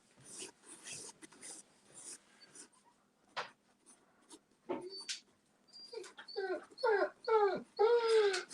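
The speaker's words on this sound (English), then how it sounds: "Oh, dog." A dog in a room whimpers and whines in a run of rising, wavering high cries that grow louder and more frequent toward the end, after scattered soft scratching and shuffling noises.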